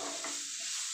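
Black raisins fry in a pan, giving a brief close sizzle with a soft stirring scrape for about a second.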